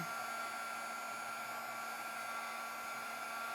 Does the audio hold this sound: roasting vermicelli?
no